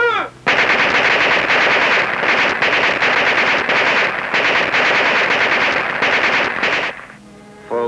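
Machine gun fire from a World War II newsreel about the Battle of the Bulge: loud, sustained rapid bursts with brief gaps, lasting several seconds before cutting off.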